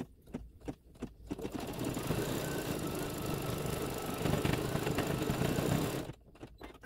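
A sewing machine stitches a quilt block with a fast, steady mechanical whirr that runs for several seconds, framed by a few short bursts of stitching at the start and the end.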